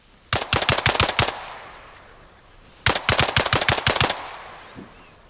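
Suppressed gunfire in the Arma Reforger video game comes as two short, sharp automatic bursts of about eight rounds each, close and loud, separated by a pause with a lingering tail.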